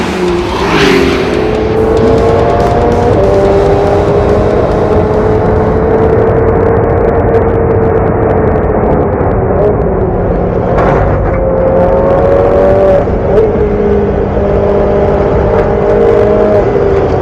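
A Ferrari race car engine roars at high revs close by, its pitch climbing and shifting through gears with a brief tire squeal, loud and continuous with no talking.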